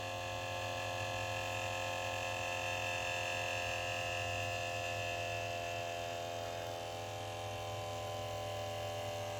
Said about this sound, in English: That's as the pressure builds in the system and the pump's faced with resistance.